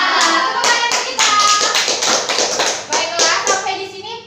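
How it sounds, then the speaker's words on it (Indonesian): A classroom of children claps hands in a rhythmic, patterned sequence of sharp, loud claps, close and dense, ending in a flurry. "Tepuk tangan untuk kita."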